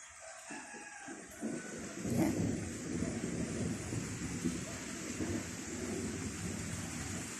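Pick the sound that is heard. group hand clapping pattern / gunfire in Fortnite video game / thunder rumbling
thunder rumbling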